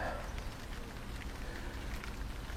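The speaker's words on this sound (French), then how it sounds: "Il pleut. Un orage arrive." Rain falling outdoors as a storm approaches, a steady close hiss of drops on surfaces with no breaks, moderately loud and even.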